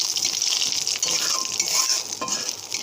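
Bay leaf, a dried chili and radhuni seeds sizzle in hot oil for a fish curry with vegetables, a steady close crackle with a few light stirring scrapes throughout.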